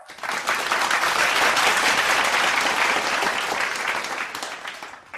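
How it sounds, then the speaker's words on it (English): A crowd at a holy day celebration applauds the IT and media department, sustained dense clapping that rises quickly, holds steady and loud for several seconds, then tapers near the end. "let us give a round of applause to our IT and media department"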